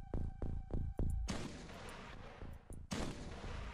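Gunfire in the game OpenXcom PirateZ, three heavy booming shots in quick succession, then a long roaring blast of noise with another boom close behind, loud and with no talk.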